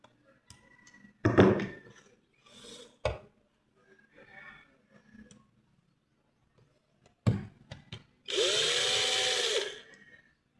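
A power drill whirs loudly for about two seconds near the end while an electric fan is being taken apart for cleaning, after scattered knocks and clunks of handling the parts.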